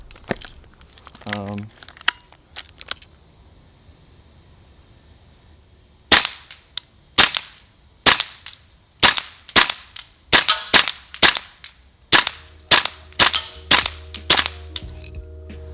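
A Tokyo Marui airsoft M4 rifle fires a string of sharp, close, evenly spaced single shots after a few quieter handling clicks, each crack snapping loudly against a near-silent background.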